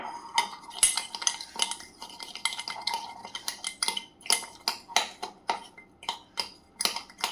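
Black coffee being stirred in a cup, a spoon clinking against the sides in a fast, steady rhythm of sharp metallic taps, close and fairly clear, with no talk.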